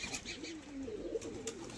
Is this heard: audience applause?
no